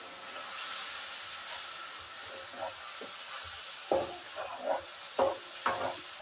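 Ground green chili paste fries quietly in a pan, with a faint hiss and a few soft stirring scrapes and taps that come more often toward the end.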